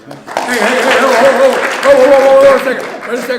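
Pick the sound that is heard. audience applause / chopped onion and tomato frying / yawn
audience applause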